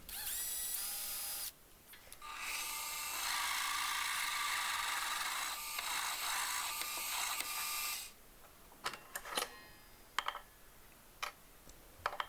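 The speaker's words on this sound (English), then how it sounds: "We popped over to the drill press" A drill press whines steadily for several seconds, then stops, followed by scattered mechanical clicks and taps nearby.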